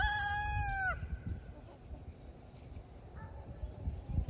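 A rooster's crow cuts off early, then soft clucking and scratching from chickens nearby, with insects chirping faintly in the background.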